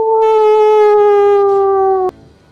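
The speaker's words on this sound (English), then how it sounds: "You hear a howl from deep in the woods." A wolf howl sound effect played during a Dungeons & Dragons session in the woods: one long, loud, steady tonal howl that slides slightly down in pitch and then cuts off abruptly.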